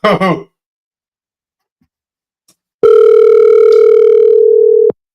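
A telephone dial tone sounds loud and steady for about two seconds while a phone call is being placed, after a brief throat noise and a long stretch of silence.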